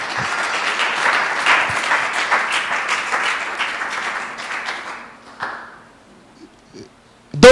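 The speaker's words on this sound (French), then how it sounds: "Est-ce qu'on peut acclamer très fort le Seigneur?" A church congregation at a seminar applauds and cheers for the Lord, a loud, dense burst of clapping and shouts that gradually fades out, followed by near silence and a brief sound at the end.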